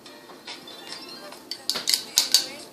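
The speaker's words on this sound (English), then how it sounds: "So I got this little stirrer. You just kind of mix it up." A sangria wine cocktail is stirred in a mixer with a small stirrer: soft scraping at first, then a cluster of bright metallic clinks in the second half, with a quiet voice underneath.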